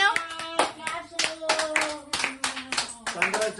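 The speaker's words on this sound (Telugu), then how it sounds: "క్లాప్స్ కొట్టండి ఒక 10" A small family group claps hands together in a home setting, a burst of quick, uneven applause with sharp repeated hits, loud and close, with some voices mixed in.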